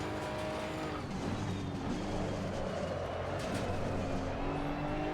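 GT2 race car engine in the Assetto Corsa Competizione racing game, a continuous, loud engine roar with shifting pitch through gear changes and brief tire squeal, with no talking.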